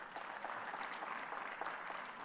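An audience claps together at a plant breeders association conference in Africa, steady and fairly faint, heard from within the hall with no voices over it.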